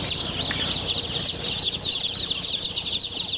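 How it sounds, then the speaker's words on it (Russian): Dense, continuous high-pitched peeping from a crowd of newly hatched chicks inside an incubator tray, steady and fairly loud throughout with no talk. "И вот они, господа цыплятки, которые выскочили."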